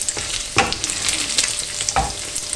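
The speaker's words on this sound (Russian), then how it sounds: "поджариваю шпек" Pieces of cured speck crackle and sizzle in a frying pan, a steady hiss broken by sharper pops and occasional stirring scrapes, close and alone with no talk.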